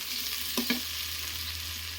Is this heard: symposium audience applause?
no